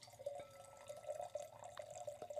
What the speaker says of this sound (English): Pour a little bit into the microphone sound so we can capture it.